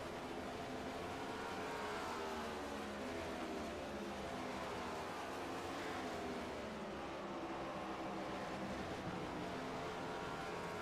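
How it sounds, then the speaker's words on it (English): Stock cars race around Gateway track, a steady, continuous roar of engines blending together at a distance with no break in the noise. "these cars are flying around Gateway here as we're counting down the laps here from Gateway"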